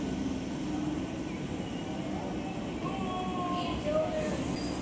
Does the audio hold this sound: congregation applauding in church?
no